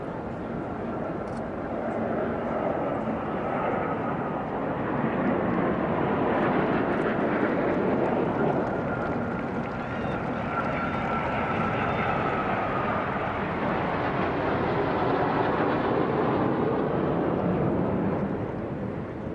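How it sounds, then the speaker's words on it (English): Two RAF Typhoon and two Tornado GR4 military jets fly past over Buckingham Palace during Trooping the Colour, a loud sustained engine roar swelling and fading across the whole stretch, with crowd noise beneath. "2 Typhoon aircraft provided by RAF Lucas and 2 Tornado GR4s by RAF"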